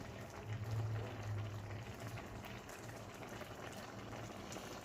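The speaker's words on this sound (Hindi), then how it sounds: "यहाँ पे 15 मिनट हो चुके हैं तकरीबन दाल को बॉईल होते हुए।" Lentils (dal) boiling steadily in a pot in a home kitchen, a soft continuous bubbling and simmering wash with no voices.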